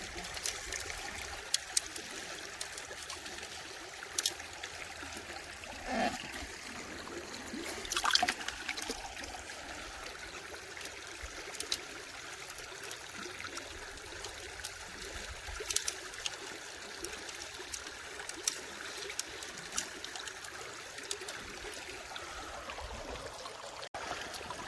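Water trickles and flows steadily through a small gold prospecting sluice, a soft, continuous outdoor babble with occasional light splashes and clinks.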